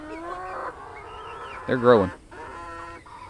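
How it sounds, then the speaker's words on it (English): Young laying hens raised on pasture cluck and murmur close by, with one louder squawking call partway through, while a person talks over them. "these are the next generation of laying hens"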